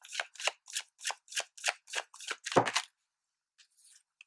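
A deck of oracle cards is riffled in quick rhythmic bursts, about nine crisp close shuffles in a row, then a pause with a few faint card rustles at the end.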